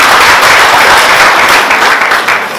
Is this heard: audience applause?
yes